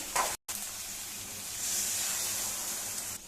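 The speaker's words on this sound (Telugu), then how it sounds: "ఇప్పుడు చింతపండు రసం వేసుకోవాలి" Tamarind juice pours into a hot pan of egg and eggplant curry, a sharp sizzling hiss that starts after a brief gap, swells louder and holds steady, close up.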